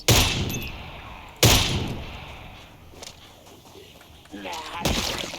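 Gunfire in Project Zomboid, with sharp broadband shots at the start and again near 1.4 s, plus a later burst, mixed with game sounds and a faint voice.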